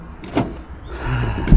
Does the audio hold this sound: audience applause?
no